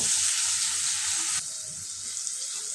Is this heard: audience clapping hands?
no